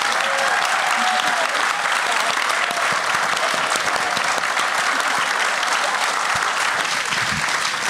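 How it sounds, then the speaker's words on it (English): Audience applause for symposium panelists, dense sustained clapping from a sizable crowd, loud and continuous without letup, with a faint voice briefly audible beneath it. "And one more round of applause for Tina Fujino, Gerald Ishibashi, David Honjio, Harry Manaka, and of course"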